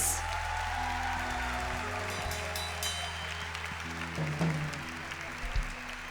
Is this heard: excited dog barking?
no